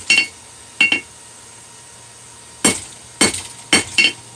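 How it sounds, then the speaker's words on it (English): Hammer strikes on metal at an anvil, a few sharp ringing blows in small pairs and clusters with quiet gaps between, close and clear with no talking. "now we come back over to the near side of the anvil"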